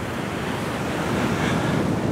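Ocean waves and wind on a coastline, a steady loud roar of surf and wind buffeting the microphone, unbroken and close, with no speech.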